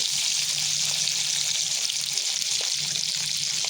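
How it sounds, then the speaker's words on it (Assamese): Soft, steady sizzle of magur fish frying in mustard oil, fairly quiet and continuous, with faint crackles. "মাছ ভাজি আছোঁ।"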